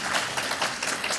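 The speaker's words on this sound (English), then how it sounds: "can we get a round of applause for everyone who's spoken?" A symposium audience applauds the speakers at a UK health data research event, producing a short burst of steady, moderately quiet clapping that fills the room without a break.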